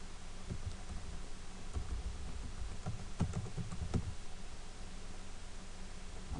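Quiet keystrokes on a computer keyboard while writing C++ code, a loose run of light clicks and taps, a few slightly sharper, under a steady hiss of background noise with no voice.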